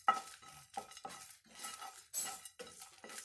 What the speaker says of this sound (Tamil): பேனில் முதல்ல 2 மிளகாய், ஜீரகம், கிராம்பு, பட்டை, இலை எல்லாத்தையும் சேர்த்து நல்லா வறுத்துக்கலாம்.